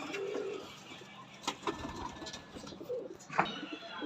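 A pair of teddy pigeons coo softly and close by, giving a few low throaty calls with faint clicks and rustles in between.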